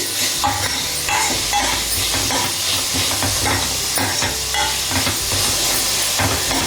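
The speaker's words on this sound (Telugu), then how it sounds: "ఒకసారి ఇదంతా కలుపుకొని బాగా వేగనివ్వండి." Onions frying with ginger garlic paste in a pan, a loud, steady sizzle with stirring scrapes running throughout, close and alone without any talk.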